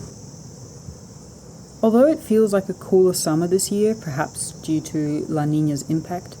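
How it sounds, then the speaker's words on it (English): A steady high cicada buzz from the Australian bush hums throughout at moderate level while someone talks over it for most of the clip. "In the bush, I can hear the cicadas chirping."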